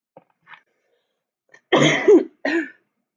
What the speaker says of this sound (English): I have a cough drop in my mouth right now and I'm still coughing